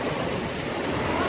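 Heavy rain pours down during a crazy storm outdoors, a dense, steady, loud hiss of drops hitting surfaces that fills the whole moment without letting up.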